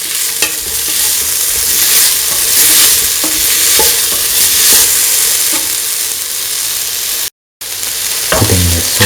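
Salt being stirred into a lentil and ivy gourd stew with coconut milk in a pan, a steady scraping stir over a continuous bubbling sizzle, loud and close, with a brief gap near the end.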